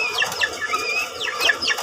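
A white kelso gamefowl hen makes a string of short, high clucks and chirps close by, rapid and uneven, with no voices.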